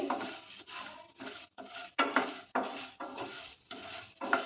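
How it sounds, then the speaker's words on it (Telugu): Chana dal with cumin and coriander seeds stirred in a pan for spinach karam, a spatula scraping in steady repeated strokes with light sizzling underneath, close and fairly quiet. "ఇప్పుడు మనం తీసుకున్న శనగపప్పు, జీలకర్ర, ధనియాలని కూడా వేసి చక్కగా వేయించుకుందాం"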